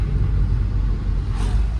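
Car engine rumbles steadily with a low, continuous drone as a young boy named Krishna sits at the wheel, the sound close and even with no talking.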